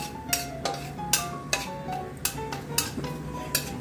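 Whole spices, cinnamon, cloves, cardamom and a bay leaf, are stirred in hot oil in a pan, giving a quiet run of regular clinks and scrapes from the utensil, about one every half second, with faint sizzling underneath.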